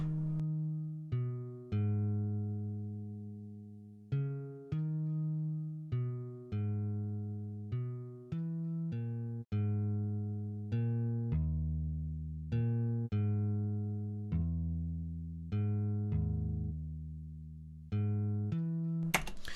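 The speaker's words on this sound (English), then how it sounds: "Ibanez bass, and that sounds like this." Stock Ibanez electric bass sample instrument from FL Studio's Direct Waves plays a slow, plucked bassline alone, each note attacking clearly and decaying in a steady rhythm over about twenty seconds, close and dry.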